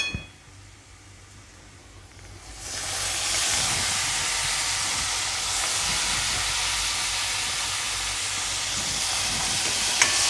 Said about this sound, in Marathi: आता हे चांगलं फ्राय करून घेऊ